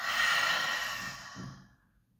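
A single deep breath blown out through the mouth during a gymnastics exercise, a long soft airy exhale that fades away over about two seconds, close and alone.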